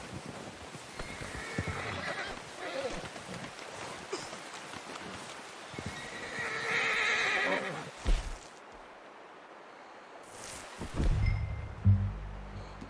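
Horse whinnying and hooves in a video game, a loud neigh and clip-clopping steps over an outdoor ambience, followed by brief rustles and thumps.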